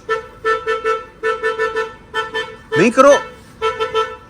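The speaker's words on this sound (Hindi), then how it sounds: "हॉर्न क्यों दिए जा रहे हो?" A car horn honks in a series of repeated short blasts, close by, with someone shouting angrily over them partway through.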